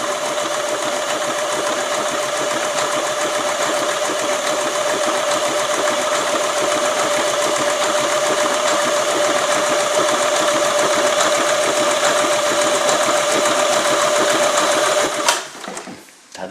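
An Elna 20 sewing machine stitches fabric with a continuous, loud, even whirring hum. It runs steadily for about fifteen seconds, then winds down and stops abruptly near the end.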